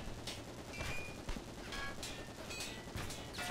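Bursts of gunfire in the tank battle game War Thunder, several sharp loud shots spaced irregularly over steady engine-like rumble, with no voices.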